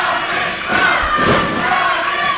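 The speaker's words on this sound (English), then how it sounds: "You listen to the crowd out here. They're screaming at the top of their lungs for Nick Dinsmore." A wrestling crowd at an Ohio Valley Wrestling heavyweight match screams and cheers in a loud, continuous roar that swells midway through, with shouted voices and a few thuds mixed in.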